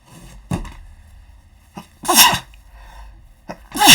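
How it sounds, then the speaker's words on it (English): A single loud allergy sneeze bursts out amid quiet, followed by a second sharp sneeze near the end, with softer breaths between. "I'm probably going to sneeze here."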